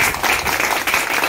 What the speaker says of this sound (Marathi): टाळ्या तर वाजल्याच पाहिजे.